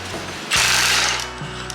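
A tool rattles a bolt loose from a tractor's idler pulley, a loud close burst of buzzing hammering lasting under a second, preceded and followed by steady mechanical humming.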